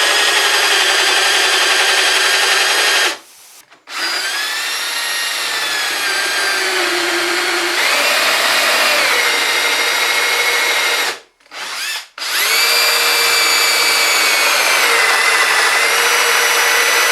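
A power drill whines steadily as it bores dowel holes into wood, running in three long bursts separated by brief pauses, loud and close.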